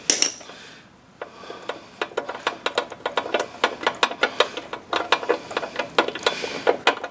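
Ratcheting socket wrench clicking in quick irregular bursts while a 13/16 spark plug socket backs a spark plug out of a Snapper zero-turn mower engine, close and fairly quiet.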